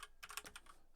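Quick bursts of typing on a computer keyboard, soft clustered keystrokes in a rapid, uneven run lasting under a second, fairly quiet and without voices.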